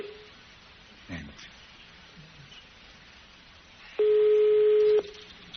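Telephone ringing on an Italian radio show call, with one long steady ring tone near the end after quieter line noise and a brief click.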